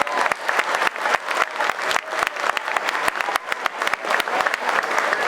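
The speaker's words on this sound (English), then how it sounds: "give a big round of applause to John Cleary and his officials" A crowd at the Tipperary minor hurling county final in Thurles applauds the match referee and officials with steady, dense clapping and loud individual claps sounding close, continuing throughout without talk.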